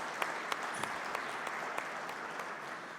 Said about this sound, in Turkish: Onlara da bir alkış rica ediyorum o geçmiştekilere lütfen.